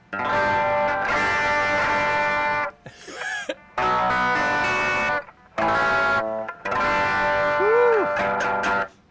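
Heavily distorted electric guitar, a Fender Mexican-made Acoustasonic Player Telecaster through a Rat distortion pedal, plays chopped bursts of chords with short gaps and a quick bend, gritty and loud throughout.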